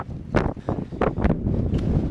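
Strong wind of about 25, gusting to around 50, buffets the microphone in several rough gusts over a couple of seconds, loud and close, in snowy Haute-Savoie.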